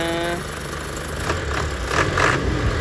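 A mechanical Isuzu 6HL1 diesel engine in an Isuzu Forward truck idles close by with a steady low rumble, joined by a few brief rhythmic clattering bursts.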